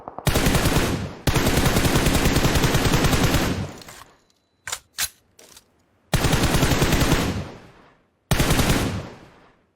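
Loud, close automatic gunfire in PUBG, with long sustained rapid bursts separated by short silences and a few isolated single shots in between.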